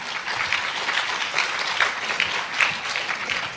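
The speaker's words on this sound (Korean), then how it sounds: "우리 이분들을 위해서 한번 박수를 보내드릴까요?" An audience of elementary school principals at a Korean women principals' association summer training session gives warm, sustained applause, a close, even patter of many hands that carries on without a break.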